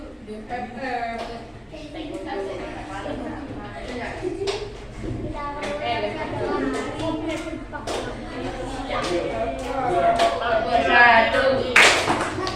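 A classroom of students claps together in a counted rhythmic pattern, sharp distinct claps arriving in groups while a teacher speaks and counts between them, the clapping growing louder and fuller toward the end.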